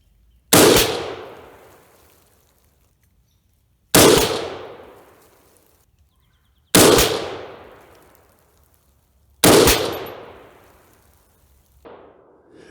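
Four loud PSA 6.5 Grendel rifle shots from a freshly scrubbed barrel, spaced a few seconds apart, each a sharp crack with a long decaying echo, followed by a faint clank at the end.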